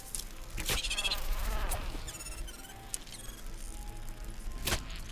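A bee buzzes steadily in the survival game Smalland, a close, continuous insect drone with brief sharper hits and clatters mixed in.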